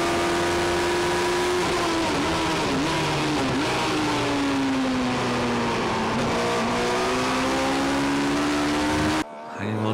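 NI Sevens race cars roar loudly past at the Kirkistown circuit, their engines holding a sustained high whine with pitch dips through gear changes before the sound cuts off abruptly.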